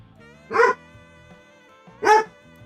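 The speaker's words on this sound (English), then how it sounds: "Don't bark at me." A dog barks twice, close and loud, about a second and a half apart, with quiet gaps and no talking in between.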